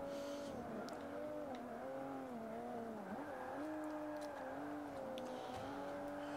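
Racing car engine in Forza Motorsport 5 on Xbox One, a steady sustained drone with pitch rising and dipping through gear changes and cornering, loud and continuous throughout, with faint tire noise above.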